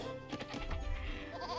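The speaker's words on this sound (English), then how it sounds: "Oh, that's where that goat went." A goat in Age of Empires II lets out a short bleat over quiet game ambience, fairly faint and set against a steady background hum.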